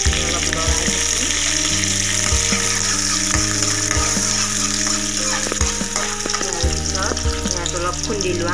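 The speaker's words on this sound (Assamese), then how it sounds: "তেল গৰম হৈছে। ইয়াতে মই উৰহী প্ৰথমতে ফুৰণ দি শুকান জলকীয়া দি দিলোঁ, এটা তেজপাত দিলোঁ, পিঁয়াজ দিলোঁ।" Lima beans, dried chili, a bay leaf and onion sizzle in hot oil in an Assamese kitchen, a loud continuous frying hiss with periodic clinks and scrapes of stirring, and a faint voice in the background.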